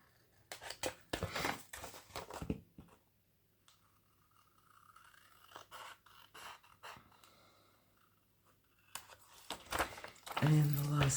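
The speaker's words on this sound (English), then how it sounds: "Just cut that corner there." Scissors snip through the corner of a paper envelope up close, giving a few crisp, short cuts with paper rustling and crinkling between quieter pauses.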